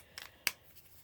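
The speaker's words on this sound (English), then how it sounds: "I'm going to put my scissors away and get those out of the way." Scissors set down while being put away during a paper ephemera crafting session: one sharp, bright clack stands out in a quiet room, with a softer paper rustle just before it.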